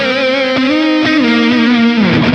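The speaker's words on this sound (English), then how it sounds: "when I need to jump into a lead sound, I just hit that control switch." Electric guitar lead tone through a Boss GT-1000 multi-effects preset: a sustained, distorted, singing melodic line with slides and bends, loud and alone.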